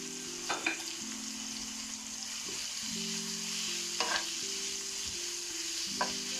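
Salted chicken pieces fry in a pan with a constant sizzle, punctuated by a handful of short spatula scrapes and clacks, over a low steady hum from the stove area.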